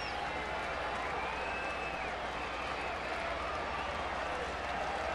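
A stadium crowd at a baseball game, adults clapping and thousands of kids screaming, forming a steady, distant roar of cheers and applause that stays constant throughout.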